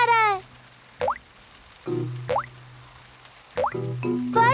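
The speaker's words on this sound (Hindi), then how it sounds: "ओह, बारिश का पानी घर के अंदर आ रहा है।" Water drops fall one at a time indoors from rain leaking into a cartoon house, each a bright plinking drip separated by pauses, with short tonal musical notes between them.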